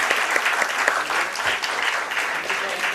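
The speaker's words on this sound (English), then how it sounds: "Let's have a huge round of applause, ladies and gentlemen." Applause from an audience at the NSE listing ceremony of the TVS Infrastructure Trust IPO, a dense, steady clapping crowd filling a hall, loud and continuous with no pauses.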